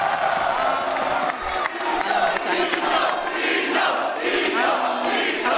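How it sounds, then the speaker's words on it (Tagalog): A rap battle crowd roars with cheers, whoops and shouts, a dense, loud wall of noise that stays steady for the whole stretch with scattered clapping mixed in. "tignan nyo yung pop sa kanya nung crowd, sobrang solid na"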